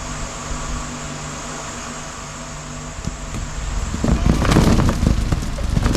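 A wood lathe spins a yew wood blank at 1200 RPM, giving a steady mechanical whir with a faint high whine, and then louder bursts of rough broadband noise join partway through.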